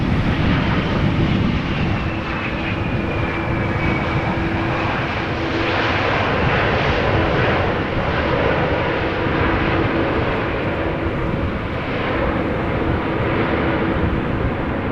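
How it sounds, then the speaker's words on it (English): A Vueling Airbus A320 returning from Barcelona lands at Amsterdam Schiphol in stormy weather, its engines giving a loud, steady roar with a brief burst of thrust reverser, heard close and continuous without any talk. "Using a tad of reverser there."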